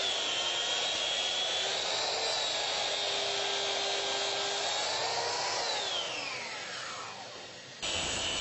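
A Bosch saw fitted with a fine-tooth TCT blade cuts internal dividers for an entertainment cabinet, a loud, sustained high whine that dips in pitch under load partway through and then stops abruptly.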